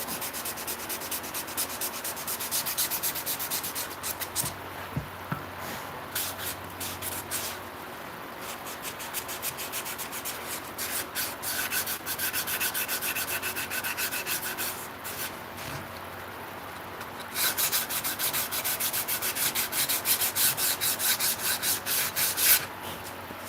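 Sandpaper works steadily over an eastern red cedar charcuterie board, blending deep scratches out of a shoulder corner: continuous close rasping strokes that pause briefly and then grow louder and brighter toward the end.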